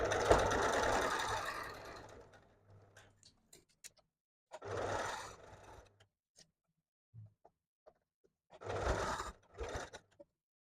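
A sewing machine stitches a puffed sleeve in three separate bursts, each a close, steady mechanical whir lasting about one to two seconds. Faint clicks and handling noises fill the quiet gaps between bursts.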